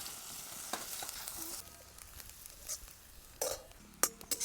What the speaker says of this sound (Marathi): आपला कांदा चांगला परतलाय.